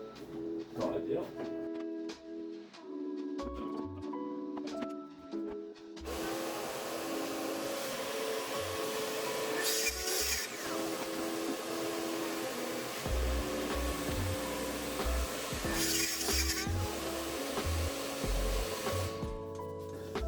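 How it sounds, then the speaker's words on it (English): Dust extractor running alongside a 110 saw in a woodworking shop, a loud steady vacuum-like whoosh that starts abruptly after a quieter stretch with talking, with brief louder saw bursts on top. "I have to use the 240 extractor with the 110 saw"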